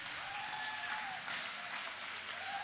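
A Sunday school conference crowd applauds for Chicha, producing soft, continuous, even clapping that sounds somewhat distant and stays level throughout.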